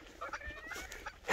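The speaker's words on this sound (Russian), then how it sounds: "Вот посадные уточки, надо их кормить." Domestic ducks kept by hunters give a quick cluster of short, nasal calls and clucks, close by and fairly loud, over soft outdoor background noise.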